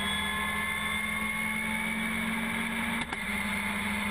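Ginetta race cars, including a G40, racing at Rockingham Speedway, heard as a loud, sustained engine drone with steady tonal whine from on board a car, no talk.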